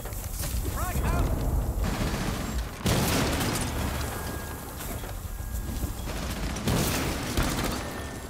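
Sustained video-game firefight with bursts of automatic gunfire, a thrown frag grenade, and heavy booms around the 3 and 7 second marks, dense and loud throughout.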